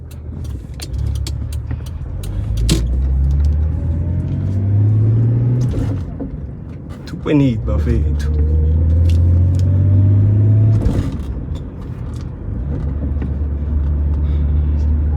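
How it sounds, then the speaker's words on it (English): An 1980s Toyota Cressida with the 2.8 Twin Cam engine drives along, its engine droning low, rising in pitch through repeated accelerations and dropping between gear changes, while someone talks over the rumble. "Drives smoothly, this car."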